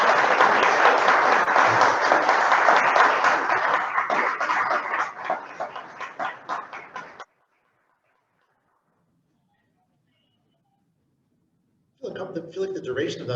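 Audience applause at a community town hall meeting, a dense sustained wash of many hands clapping for about seven seconds, cutting off into silence before voices resume near the end.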